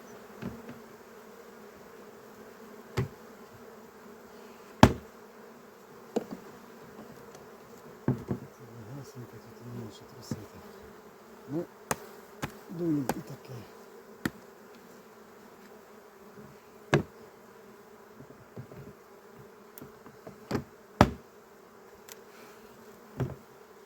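Honey bees buzz steadily around hive frames during a sunflower-season honey extraction, a continuous close drone with sharper passes of individual bees flying near, heard alone without talk.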